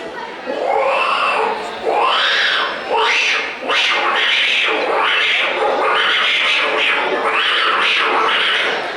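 A voice imitates two cats fighting, with loud, rising and falling yowls and screeches in quick, overlapping bursts for several seconds.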